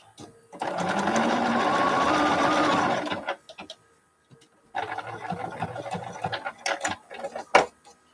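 A sewing machine stitches quilt sashing in two bursts, a steady close whir of a few seconds, then a pause and a second shorter run followed by small clicks and handling noises.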